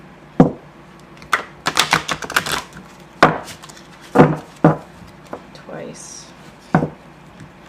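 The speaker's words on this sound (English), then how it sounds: "Let's just shuffle once." A round oracle card deck is shuffled up close: a series of crisp, irregular card taps and snaps in short clusters, with a brief spoken word among them.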